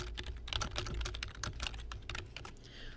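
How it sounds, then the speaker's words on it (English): Rapid, steady clicking of a computer keyboard being typed on up close, keys tapping in quick irregular bursts, with no voices. "placing the cursor where you'd like your new information to appear in the article and start typing"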